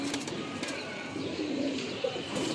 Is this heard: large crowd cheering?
no